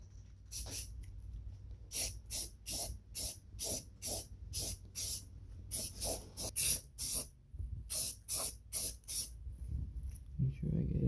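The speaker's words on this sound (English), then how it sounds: "let's hit this with some primer" Primer is sprayed from a rattle can onto parts of a Yamaha V Star chopper, heard as repeated short hissing bursts, close and fairly loud, in a steady rhythm with brief pauses between them.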